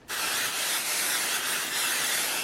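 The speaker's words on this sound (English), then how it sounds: "And I'm going to spray." A continuous close hiss of aerosol spray adhesive is directed onto fabric batting in a short, unbroken burst.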